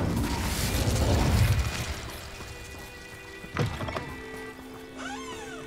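Incendio fire spell cast in the video game Hogwarts Legacy, heard as a loud roaring whoosh of flame that fades, followed by a single dull thump and a softer shimmering magical tone.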